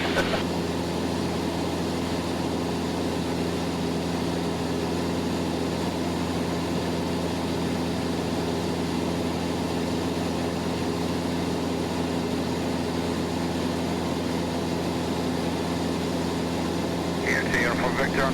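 A Cessna 172SP drones steadily in flight, the propeller engine giving a constant low, even hum heard from inside the cabin for the whole stretch.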